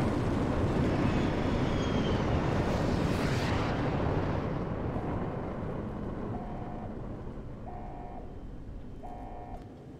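A missile strike detonating in the video game Fallout: New Vegas, a long, loud rumbling roar that swells and then slowly fades, with faint repeating electronic beeps in the tail and no talk.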